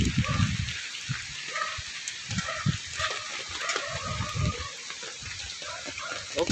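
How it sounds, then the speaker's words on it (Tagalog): Steady rain patters across the whole stretch, a constant wash with occasional low thumps and knocks from nearby activity. "Maulan."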